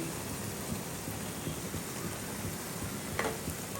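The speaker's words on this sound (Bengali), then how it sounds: "এবারে পেস্টটা ঢেলে দেবো পুরো পেস্টটা ঢেলে দিয়েছি" Spice paste poured into hot oil with nigella seeds and dried chillies, giving a continuous soft sizzle and hiss that stays steady and even, close up, with a faint clink near the end and no talking.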